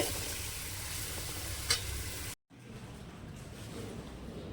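Rice is stirred into pav bhaji masala frying in a pan, giving a steady sizzle with scraping, broken by a brief silent cut before the frying hiss resumes more quietly.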